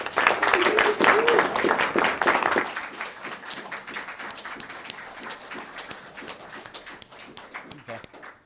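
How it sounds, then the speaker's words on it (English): An audience at a student union council meeting applauds loudly for a couple of seconds, then the clapping thins to scattered claps under a speaking voice. "because I think they also deserve some applause"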